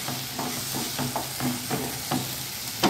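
Peas and potatoes being stir-fried in a pan for a mata-batata dish, with steady sizzling and repeated scraping stirs of a spoon about every half second, close and clear with no voices.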